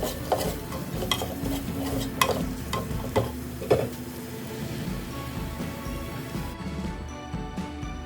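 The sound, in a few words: stirring fried onions with coriander powder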